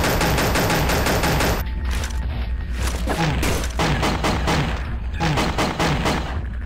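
Rapid burst-fire gunshots from a Pixel Gun weapon, dense repeated cracks in quick clusters, loud and close, continuing with short pauses between bursts.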